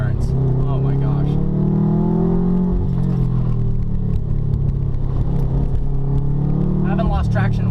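A 2011 Subaru WRX tuned to Stage 2 drives hard through tight turns on a twisty road. The engine holds a continuous deep drone with rising and falling revs, and a driver talks over it.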